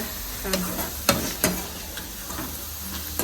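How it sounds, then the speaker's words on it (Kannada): Potatoes deep frying in a pot of oil for a homemade tawa veg pizza, a steady close sizzle broken by a few sharp stirring clinks and scrapes. "ಆಲೂಗಡ್ಡೆ ಈಗ ಡೀಪ್ ಫ್ರೈ ಆಯ್ತು"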